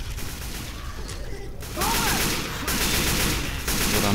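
Rapid gunfire in the video game Left 4 Dead 2 as a Boomer zombie is shot: dense, sustained bursts of shots that grow louder partway through.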